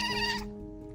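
A kitten cries with a short, high, harmonic meow that fades into a quieter tonal tail, heard close and alone.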